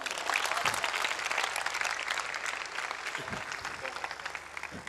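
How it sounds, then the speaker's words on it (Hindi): At a church meeting, a congregation breaks into applause, a busy, continuous spread of clapping at moderate distance, with a few low thumps and some voices mixed beneath it. "पाकरू के लिए जोरदार तालियां बजाएं"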